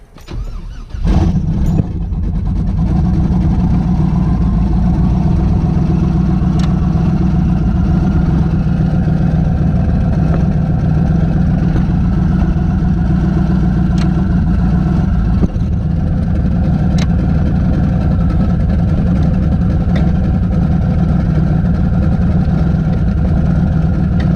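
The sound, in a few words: truck engine idling, 4L80E transmission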